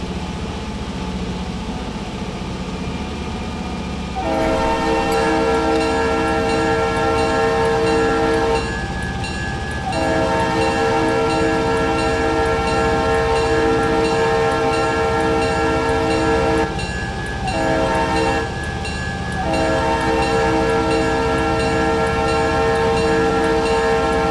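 A diesel locomotive horn in the video game Railroader blares in long sustained chords over a steady engine rumble and rail noise, sounding repeatedly with short gaps between blasts.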